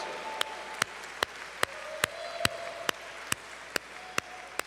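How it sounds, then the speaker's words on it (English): At a political convention tribute, a few slow, evenly spaced claps ring out about twice a second, each sharp and distinct over a quiet, faint background. "A round of applause for Nina Turner"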